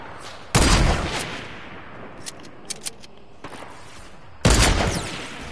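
Gunfire in the Fortnite video game: two loud, sharp blasts a few seconds apart with echoing tails and a few faint clicks between them.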